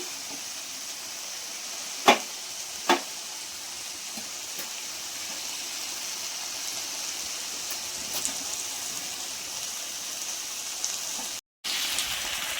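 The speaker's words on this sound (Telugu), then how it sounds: "కొంచెం సేపు దీన్ని వేపుకున్నాం అండి, ఇప్పుడే కారం వేసాం కాబట్టి" Chili powder frying in hot oil in a pan while cooking chicken handi, a steady soft sizzling hiss throughout with a couple of brief utensil clinks near the start.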